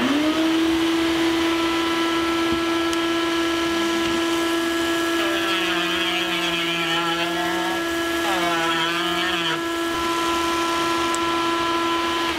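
A shop vacuum runs loud and close with a steady motor whine while sucking up dust from a cast helmet kit, its pitch wavering briefly as debris passes through the hose, for about twelve seconds without speech.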